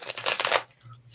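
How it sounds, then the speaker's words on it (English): Cards of a tarot deck riffled and shuffled close up for about half a second of dense, crisp flutter, then near silence with a faint low hum. "Just gonna shuffle that because I just recently used that deck."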